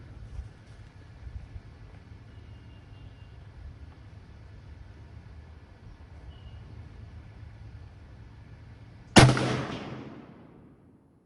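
A No. 5 Mk I rifle fires a single sharp, loud shot while being sighted in outdoors, the crack followed by a short decaying echo after several seconds of quiet ambient background.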